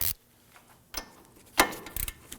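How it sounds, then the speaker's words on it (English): A few sharp metallic clicks and ratcheting snaps from a torque wrench tightening a bolt to 26 foot-pounds on a 2008-2011 Ford Focus front wheel hub, spaced irregularly against quiet. "let's torque that down to 26 foot-pounds."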